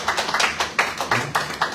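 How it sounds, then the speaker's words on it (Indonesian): A church youth congregation gives rhythmic clapping in praise of God, about eight sharp, evenly spaced claps in under two seconds, fairly close and lively. "Yang pemuda-pemudi berikan tepuk tangan untuk Tuhan."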